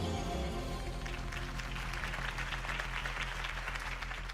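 Crowd applause at a political campaign rally in the Batman Telltale video game, a loud continuous wash of clapping sustained throughout under a steady musical score.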